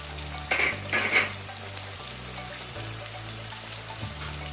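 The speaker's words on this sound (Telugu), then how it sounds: "సో చూడండి ఫ్రై చికెన్ అయితే బాగా అవుతుంది" Chicken deep-frying in hot oil at home, a steady bubbling sizzle with a couple of brief louder surges early on, heard close and without talk.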